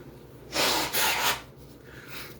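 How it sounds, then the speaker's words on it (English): A breathy, noisy nose blow in two forceful bursts, close up, followed by a quieter trailing exhale. "Blow my nose"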